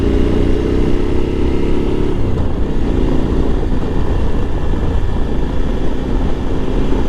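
A motorcycle being ridden, its engine a steady, loud drone with a held tone that drops in pitch partway through, wrapped in constant wind and road rumble.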